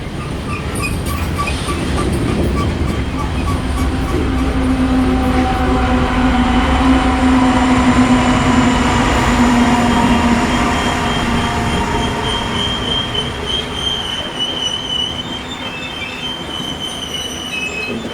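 A Canadian Pacific freight train with a Canadian National locomotive mid-train rolls past at Albert Canyon, its wheels squealing loudly and steadily against the rails for many seconds, with rumbling cars and a constant grinding wash.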